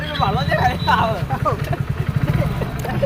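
A motorcycle engine putters steadily underneath, while people talk loudly over it close by.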